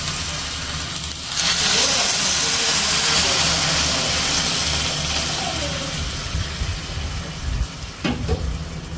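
Broth poured into a hot pan of fried onions for a Bengali egg curry, giving a loud, steady hiss and sizzle that swells after the first second and holds, with a brief clatter near the end.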